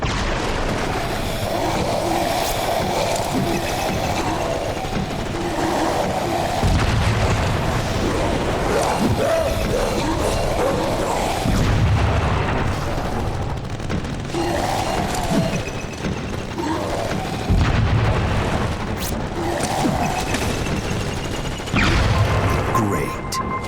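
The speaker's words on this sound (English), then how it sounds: "Use your grenades to blow these freaks to pieces." Grenade explosions in the Xbox 360 game Crackdown 2: several heavy booming blasts land every few seconds over a loud, continuous bed of game noise and rumble.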